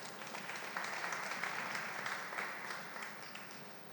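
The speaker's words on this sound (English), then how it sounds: "Let's give him a round of applause." A conference crowd claps steadily, the applause holding an even level for several seconds before easing slightly.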